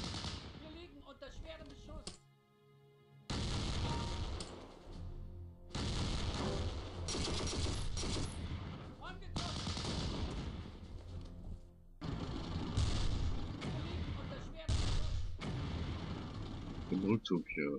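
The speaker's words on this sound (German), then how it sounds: "Wir liegen unter schwerem Beschuss" Gunfire and artillery in a Battlefield video game set in Normandy, with dense bursts of shots and booms in repeated loud stretches, broken by a brief lull near the start, with someone talking over the battle.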